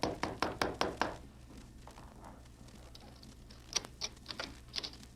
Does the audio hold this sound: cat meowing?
no